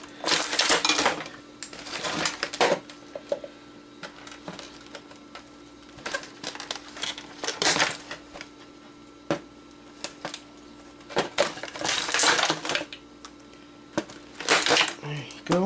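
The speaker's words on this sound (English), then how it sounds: "A few more snips and we'll be done." Cutters snipping wires from an old electronics circuit board, a series of sharp metallic clicks and clatters in irregular bursts, close up, with talking between the snips.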